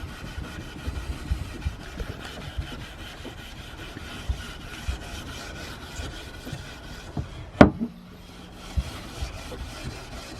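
Coarse wire wool rubs along a wooden garden tool shaft in a run of short, scratchy, irregular strokes, fairly quiet, with one sharp louder scrape partway through and a faint engine hum behind.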